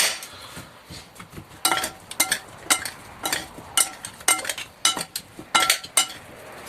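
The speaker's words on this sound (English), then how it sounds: "mix it nice and well with a couple of spoons, so that everything gets nicely in the potatoes and the onions" Two metal spoons mixing potatoes and onions in a dish, a quiet bed of scraping broken by a dozen or so sharp clinks and knocks in an uneven stirring rhythm, close and alone without talk.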